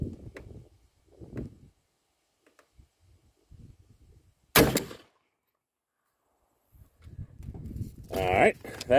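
A single loud shotgun blast from a 24-pellet 29 caliber buckshot load in a TPS White Lightning wad with Longshot powder, a sharp burst midway, with quiet murmured talk and footsteps before and speech after.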